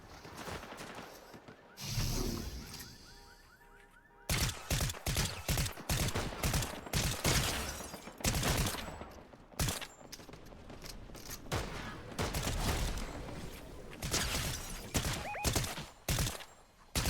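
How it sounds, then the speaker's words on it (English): Heavy Fortnite gunfire near a house: after a quieter opening with a couple of bursts, a long run of loud, rapid shots cracks out in clusters, some sharp and close, with brief gaps between volleys. "Lots of gunshots."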